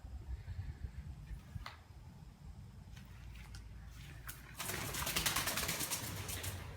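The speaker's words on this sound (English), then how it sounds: "Pigeons up in the rafters." Pigeons up in the rafters under a structure at Bear Creek in Rochester, Minnesota, coo faintly against a low ambient rumble that swells louder near the end.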